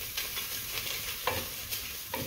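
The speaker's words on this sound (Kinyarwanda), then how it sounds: "Ya poivro twateguye, tugakomeza tukagira ute tukagaragura" Vegetables with peppers frying in a pan as they are stirred, a soft steady sizzle broken by several scraping stirs of a utensil, close and fairly quiet, with no talking.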